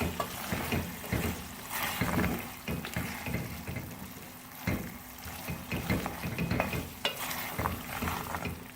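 Chicken jalfrezi with vegetables sizzles in a pan while it is stirred. Frying crackle runs throughout, with repeated scraping and stirring strokes close by and no talking.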